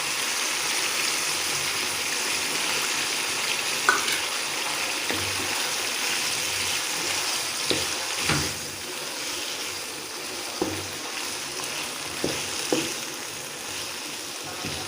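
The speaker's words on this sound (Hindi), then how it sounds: "ये देखिए अच्छी तरह हमारा चिकन और प्याज फ्राई हो रहे हैं।" Chicken and onions sizzle in hot oil in a pan, a steady hiss that holds from start to finish with a few small pops and clinks over it. No one speaks.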